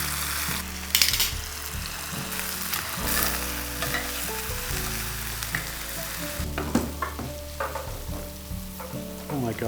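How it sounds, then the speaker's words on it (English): Tofu fries in a pan while being flipped, giving a steady sizzle with clattering and scraping of the turner and pieces turning over, loud and close, with no talk. "Tofu's looking good. I'm just gonna flip them over."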